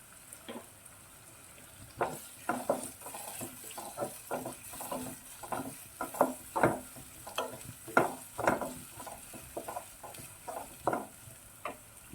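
Onions frying in a pan until golden brown for kadai chicken, a steady sizzle broken by repeated scraping stirs at an uneven rhythm, close and moderately loud, with no talking.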